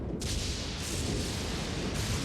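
Cannon of Haima attack in Elden Ring, a sustained loud roaring blast lasting about two seconds with a sharp onset and a dense, rumbling body.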